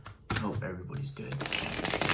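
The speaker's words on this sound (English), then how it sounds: "I usually like to do the Sorcerer Shuffle." Tarot cards being shuffled by hand, a fast riffling flutter that builds toward the end, close and fairly quiet, with a person talking over part of it.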